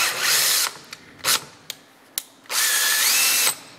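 Power drill driving a tap to cut a thread, guided by a tapping block, in a workshop: loud whining runs of the drill broken by short bursts and clicks, then a final sustained spin, close up with no talk.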